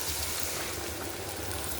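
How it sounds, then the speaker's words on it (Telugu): Water poured into a pan of dry fish, cucumber and tomato curry, a steady soft rushing splash that runs quietly throughout. "కొంచెం వాటర్ యాడ్ చేసుకోండి"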